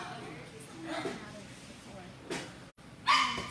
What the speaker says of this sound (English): typical puppy, loves to play,